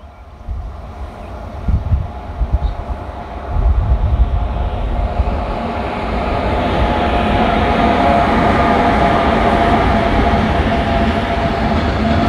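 A freight train led by a class 185 electric locomotive, with a second locomotive in tow, runs past heading toward Lehrte. A low rumble swells after a few seconds into a loud, steady rolling roar of wheels and wagons.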